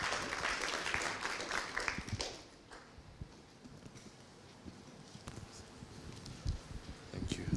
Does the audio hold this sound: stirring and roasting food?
no